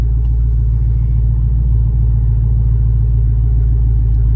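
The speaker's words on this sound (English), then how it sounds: "And I'll move forward" A Jeep Wrangler JL Rubicon creeps forward in 4-wheel low with the rear locker engaged, its engine a steady, close, low rumble throughout with no talk.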